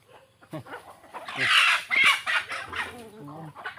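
Chickens cluck close by in a handful of sharp, uneven bursts, loudest in the middle, over a quiet background.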